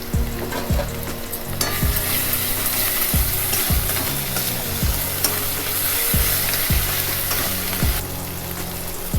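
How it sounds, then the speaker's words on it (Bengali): Spice paste frying in oil on low to medium heat for a Bengali tel koi fish curry, a steady close sizzle broken by regular scraping stirring strokes roughly every second, with no talk. "লো টু মিডিয়ামে রেখে মশলাটা ভালো করে কষাতে থাকবেন যতক্ষণ না মশলা থেকে তেল ছাড়ছে।"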